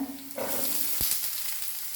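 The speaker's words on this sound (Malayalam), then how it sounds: "സവാള ഹൈ ഫ്ലെയിമിൽ തന്നെ വെച്ചൊന്ന് പഴക്കിയെടുക്കാം" Two chopped onions sautéing over a high flame for a green peas curry, a steady bright sizzle with a low tonal hum early on and a sharp scrape or clack of the spoon near the middle.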